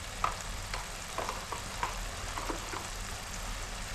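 Turmeric, chili powder, cumin powder and garam masala sizzle in hot oil with onions, a quiet steady crackle broken by soft stirring scrapes.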